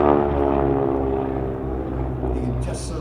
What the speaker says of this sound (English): That sound was the prop tips going supersonic.